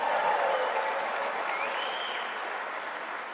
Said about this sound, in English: let's give a big round of applause to the Jones High School Band